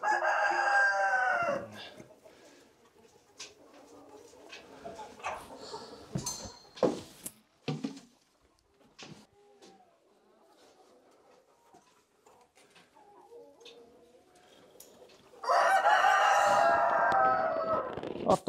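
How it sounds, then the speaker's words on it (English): Roosters crowing loudly at a barn while a chicken coop is set up, with long crows at the start and end and scattered clucks, knocks and handling noises in the quieter middle. "Wow, those roosters are loud."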